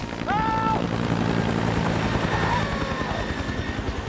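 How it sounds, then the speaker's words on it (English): A helicopter flying out of mist makes a steady rotor chop that throbs continuously and loudly, with a brief high whistle-like tone early on. "this helicopter just literally seemed like it was flying out of the mist"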